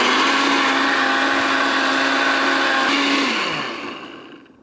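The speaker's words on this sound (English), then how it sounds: "Then turn it on your blender and crush it up." Kitchen blender crushing salsa ingredients for Mexican tacos, a loud steady whirring motor that runs for about three seconds, then winds down and fades out.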